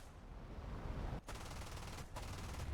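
McDonnell F3H-2 Demon guns firing in a flight combat video game, a dense continuous rattle of rapid gunfire in close bursts, with two brief breaks in the stream.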